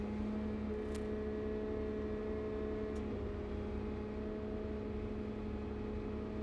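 A Cat 926M, 930M or 938M wheel loader with throttle lock engaged creeps slowly forward toward a screener, its engine holding a steady, even hum with faint whine tones and no talk.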